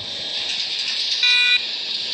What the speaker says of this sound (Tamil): ஹார்ன் அடிக்கிறா பாருங்க